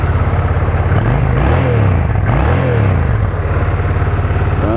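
Honda Shadow VT750 motorcycle engine running close by, a loud, steady low rumble with a few rising and falling revs throughout.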